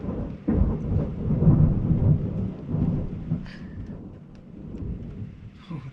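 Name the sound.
long loud thunder during a thunderstorm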